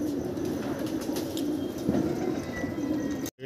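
Several pigeons kept by a fancier, some perched and others moving about, giving steady low cooing with occasional wing flaps and faint chirps, a close, continuous murmur that cuts off abruptly near the end.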